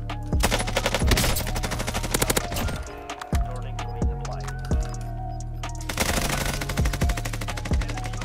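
Automatic gunfire in Call of Duty Warzone rattles in loud, fast bursts, first a dense stream, then spaced, heavier single shots, then rapid fire again, with no talking over it.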